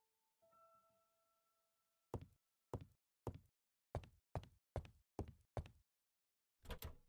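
Someone tries a locked door in an Agatha Christie adventure game: a series of sharp wooden rattles and knocks, about eight in irregular bursts, close and crisp after a short musical chime.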